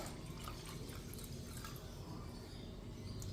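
Steady trickling and dripping of water poured into thick South Indian rasam, close and continuous, with no voices.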